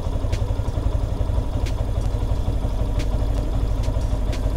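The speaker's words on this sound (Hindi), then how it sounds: "ये चीज़ आपको जैसे कि दिख रही है कि इसमें अनस्टेबल आरपीएम की प्रॉब्लम आ रही है।" A fuel-injected motorcycle engine idling up close with an unstable rpm, a steady low rumbling chug with occasional sharp ticks and clatter over a continuous drone.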